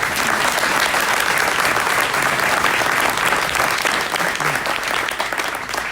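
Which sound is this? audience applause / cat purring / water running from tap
audience applause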